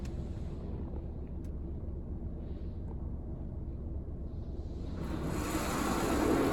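Rinse water from a touch-free PDQ LaserWash 360 automatic car wash sprays over the car, heard from inside as a steady rushing hiss that builds and grows louder toward the end.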